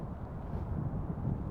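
Low, rumbling wind buffeting a microphone, a steady muffled roar with no other sounds.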